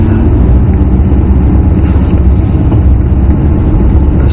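An Audi R8 pulls away gently in first gear with the handbrake off: a steady, close, low engine rumble with little change in pitch and no talking.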